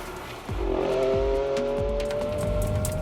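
Ferrari Enzo being driven, its engine surging as it accelerates through the gears, a loud rising whine from inside the car with rhythmic pulses under a constant roar.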